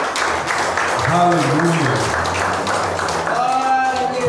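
Church congregation in Guaratinga applauding the Lord, a broad steady wash of clapping throughout with voices calling out and singing over it.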